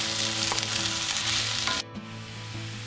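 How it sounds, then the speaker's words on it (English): Potatoes frying in coconut oil in a cast iron pan inside a truck camper, a loud, steady close sizzle that drops abruptly partway through, then continues more softly. "enough to start sizzling before I put all the potatoes in"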